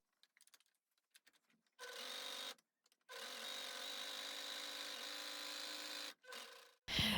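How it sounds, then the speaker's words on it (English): Overlocker serging the raw edges of a sewn suitcase cover, a close whirring machine buzz in two longer runs and a short final burst, separated by pauses and preceded by light handling taps. "So then I will overlock all these bottom parts, all the edges that are not overlocked yet"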